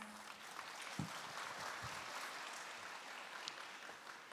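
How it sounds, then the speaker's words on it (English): An audience at the opening ceremony of an academic congress claps to welcome a professor to the stage, steady and even applause from a large hall, heard from some distance for the whole few seconds. "Please welcome Professor Jung with a round of applause"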